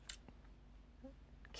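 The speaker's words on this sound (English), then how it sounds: "cut around this way and get that last little tiny bit of duct tape" Scissors snip through duct tape in a quiet indoor setting, with one faint short cut near the start and another soft snip at the end.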